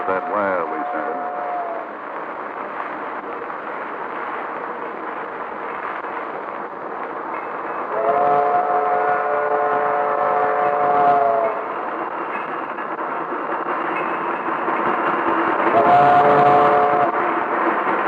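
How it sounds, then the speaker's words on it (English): A train arrives in a radio drama: a steady rolling rumble runs throughout, with a harmonic whistle or horn sounding three times, at the start, in the middle and near the end. "Yep, that's his train now, old-timer."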